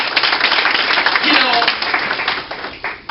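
An audience claps in a steady, close round of applause that fills the room, with a voice talking faintly underneath.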